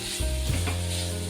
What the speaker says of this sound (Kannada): ತುಪ್ಪ ಹಾಕಿ ಕೂಡ ಒಂದು 2 ನಿಮಿಷಗಳ ಹುರ್ಕೋಬೇಕು.